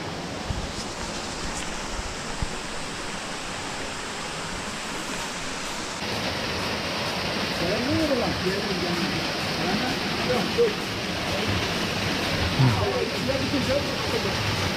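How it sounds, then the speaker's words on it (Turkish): A stream with waterfalls at Doyran roars steadily as a broad, loud rush of water that thickens partway through, while a voice briefly talks over it. "Çok güzel şelaleler var."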